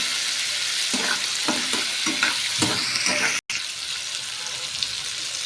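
Garlic and coconut frying in a hot pan for Indian chutney, a steady sizzle broken by a run of quick stirring scrapes, then a brief drop and the frying hiss carrying on alone.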